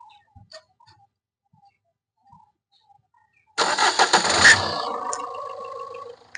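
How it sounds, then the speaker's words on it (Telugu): A 2015 Renault Duster diesel with about 90,000 km cranks and fires on the first try, then settles into a loud, clattery idle close by after a few faint ticks and near-silence. "సింగిల్ సెల్ఫ్ అయితే బండి స్టార్ట్ అవుతుంది సార్"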